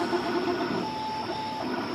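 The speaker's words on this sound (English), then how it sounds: "Sorry about the noise from the printer." AirWolf HD2x 3D printer running, giving a steady mechanical whir with a faint high tone and brief beeping stepper whines, heard alone and at moderate level.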